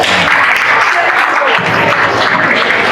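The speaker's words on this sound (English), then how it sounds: "Please let's clap for them." Dense, loud applause from a crowd fills the whole stretch with continuous clapping.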